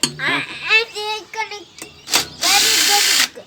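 A power drill backs screws out of a scrapped ceiling fan in short bursts, with one longer whir near the end, close up and alternating with nearby speech.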